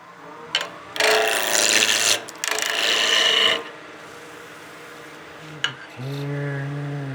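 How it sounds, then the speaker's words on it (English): A small wood mushroom Christmas ornament turning on a lathe while a tool makes peeling cuts, two bursts of harsh scraping rasp separated by brief pauses, then a lower droning hum near the end. "Bring that up just as I do some peeling cuts."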